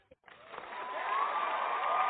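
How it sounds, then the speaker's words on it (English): A canned applause sound effect fades in after a short pause and swells into steady clapping that sounds thin and filtered, held at moderate volume to the end. "Let me look for applause"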